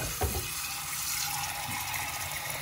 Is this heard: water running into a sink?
yes